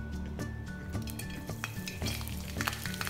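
Garlic sizzles in hot oil in a pan in a home kitchen, a steady, quiet frying hiss with a few light clinks of a utensil against the pan.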